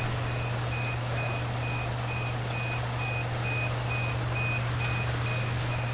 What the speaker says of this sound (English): Oh, there's the alarm.